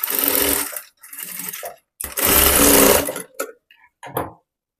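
A sewing machine stitches a folded fabric strip for a boat-neck princess-cut blouse, running in several loud, close bursts of rapid stitching separated by brief pauses and a few short clicks.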